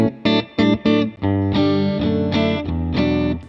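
A PRS electric guitar played through the center pickup position with a distorted, effects-laden tone, giving a few short chopped chords and then sustained ringing notes, loud and alone.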